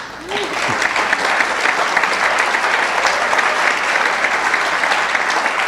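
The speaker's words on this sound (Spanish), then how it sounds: "Dale un aplauso al Señor." A church congregation applauds the Lord during a sermon, a loud, thick wash of clapping that rises within the first half-second and holds steady to the end.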